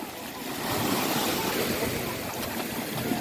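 Ocean surf washes steadily onto a beach in France, a broad continuous roar of breaking waves with gusting wind, fairly loud and sustained throughout, with faint voices in the background.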